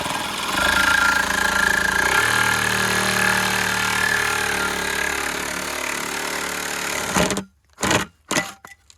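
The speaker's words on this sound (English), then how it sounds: "That Sawzall is a beast." A Sawzall reciprocating saw cuts through water pipe, a loud, steady buzzing motor drone that runs for several seconds and then cuts off into a few short bursts.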